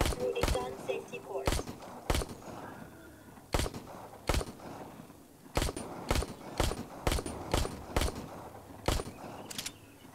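Practice pistol rounds fired at targets on a shooting range in the VR game ARK Park, a dozen or so sharp, fairly close shots spaced irregularly over background music, with a voice speaking between them.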